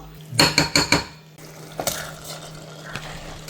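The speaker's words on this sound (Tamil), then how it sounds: "இஞ்சி பூண்டு பேஸ்ட் போட்டுக்கலாம்" Four quick, ringing metal clanks of a spoon against a pan as ginger garlic paste goes in, followed by softer scraping stirs and an occasional light tap.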